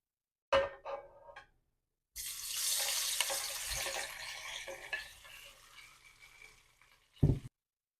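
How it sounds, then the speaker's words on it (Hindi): Potatoes go into about six to seven tablespoons of well-heated oil in a kadai: a few light clinks, then an abrupt loud rush of sizzling that slowly eases off, ending with a close knock. "इसमें आलू फ्राई करूँगी"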